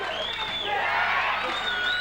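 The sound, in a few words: crowd cheering at a kickboxing fight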